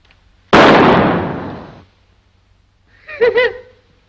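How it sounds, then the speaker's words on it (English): A single loud gunshot in the Western film Stagecoach, a sharp crack with a long echoing decay, followed by a short warbling sound a couple of seconds later. "I didn't hear any shooting, Ed. You will, Billy. You will."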